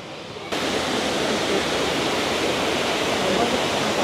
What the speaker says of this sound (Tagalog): Narinig ko na ang waterfalls.